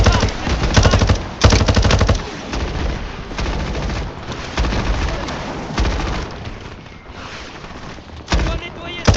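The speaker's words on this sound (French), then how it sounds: "Mitrailleuse ennemie dans ce bunker." Sustained machine-gun bursts pour from an enemy bunker in the Modern Warfare 4 beta campaign, loud and close, broken by brief pauses and mixed with other gunfire and battlefield noise.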